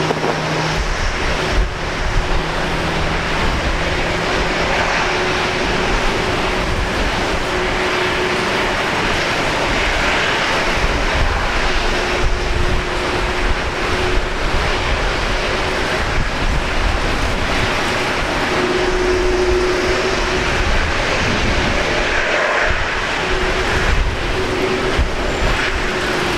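A Qantas Airbus A330 arriving from Singapore lands on runway 01 left at Brisbane Airport, a loud, continuous engine roar and rushing wind noise holding steady for the whole stretch, with no talking.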